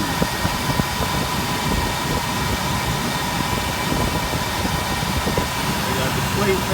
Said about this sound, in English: got the truck running